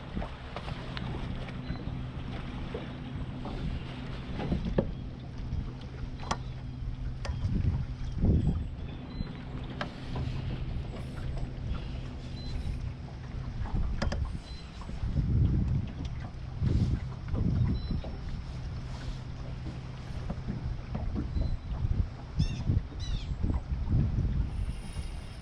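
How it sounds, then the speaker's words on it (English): An electric trolling motor hums low and steady on a fishing boat on Lake Lanier, under gusts of wind buffeting the microphone and light water noise throughout. "I'm going to follow him with my trolling motor"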